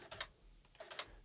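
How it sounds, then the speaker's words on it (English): Motorized faders on an Avid Eucon control surface click faintly in a few quick, small ticks against a quiet background. "you can hear my faders clicking in the background because they're coming up to speed here."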